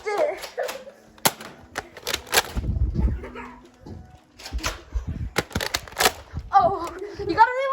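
Nerf blasters firing foam darts during a backyard battle between brothers, heard as sharp pops and clacks amid excited talking and shouting, with a dog barking at times.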